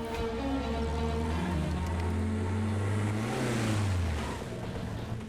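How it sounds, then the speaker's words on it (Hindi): A car engine rumbles and revs as the vehicle pulls away, the low engine note climbing and holding steady before easing off, loud and close throughout with no voices. "गाड़ी स्टार्ट करो।"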